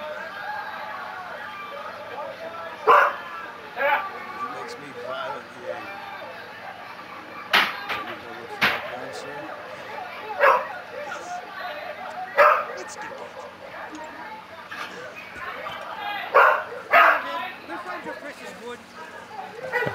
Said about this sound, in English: Sorry for the noise in the background, it's just my dog barking.